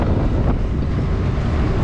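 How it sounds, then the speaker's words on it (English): Steady, loud wind roaring across the microphone beside a Tip Top ride at a fun fair in Worksop, a continuous broadband rush with no talk. "Wow, you can feel the wind on that."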